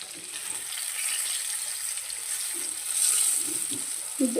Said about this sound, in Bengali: আলু আর বেগুনটা ভাজা হয়ে গেছে, এবার তুলে নেব।